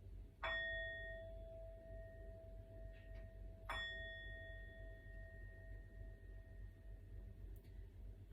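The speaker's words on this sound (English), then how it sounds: "the bell tells it's now time to relax" A bell rings twice during a chair yoga session, each a clear metallic strike with a long ringing decay, a few seconds apart in a quiet room.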